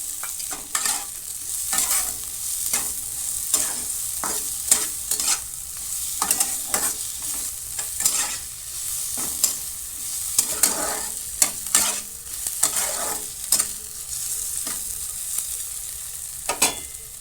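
Chopped capsicum and onion fry in a pan with a continuous bright sizzle, cut by frequent, uneven scraping strokes of a spatula at close range.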